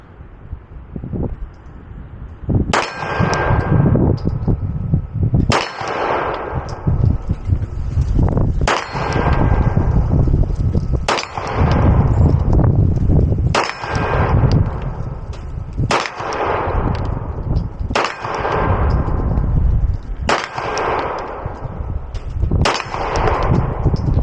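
Glock pistol shots at an outdoor range, each loud report followed by a ringing clang from a metal target, about nine evenly spaced shots over a steady background with no talk.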